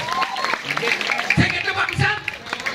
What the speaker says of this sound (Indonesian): tepuk tangan buat yoano gago